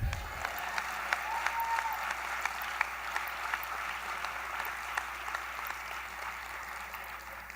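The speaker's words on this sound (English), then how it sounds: "You can clap for that." Audience at a closing session of the ACPA18 conference applauds, a sustained, fairly quiet patter of many hands clapping steadily from a distance, with a faint voice briefly audible underneath.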